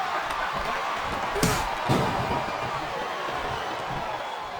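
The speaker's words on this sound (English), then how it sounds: "Sounds like this crowd's got something on their minds, King." A loud, steady crowd roar from the WWE SmackDown vs Raw 2007 wrestling video game fills the whole stretch, with a couple of thumping impacts rising briefly above the noise.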